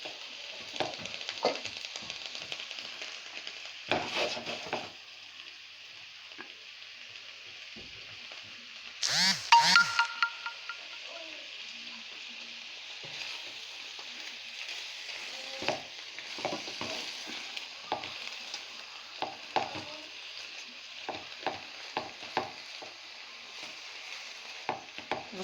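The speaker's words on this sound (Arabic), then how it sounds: "انا هديله تشويحه كده بس لغايه ما لونه ايه يتغير" Large shrimp sautéed and stirred in a pan, giving a steady sizzle under repeated scraping and stirring strokes, with one louder burst of clatter midway and occasional brief sounds from the cook.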